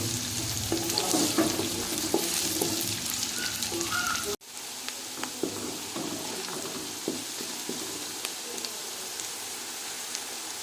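Finely chopped onions frying in a pan for chicken pulao, a steady bright sizzle with scattered crackles and pops, briefly cut off partway then resuming slightly quieter, stirring noises throughout and no talk.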